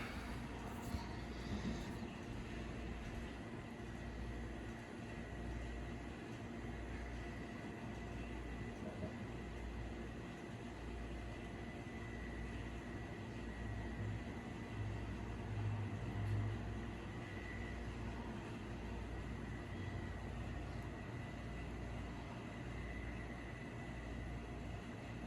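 A Wing TAT five-blade Spinner ceiling fan spins down with a faint, steady low hum and a soft rhythmic whir throughout, quiet and alone with no talking.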